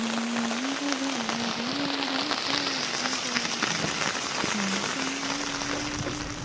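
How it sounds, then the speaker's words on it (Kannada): Heavy rain pours down steadily in a dense, continuous hiss of drops, while a low droning hum holds beneath it throughout. "ಮಳೆ ಅಂತೂ ಬಿಟ್ಟೇ ಇಲ್ಲ, ಜೋರಾಗೆ ಬರ್ತಾನೇ ಇತ್ತು"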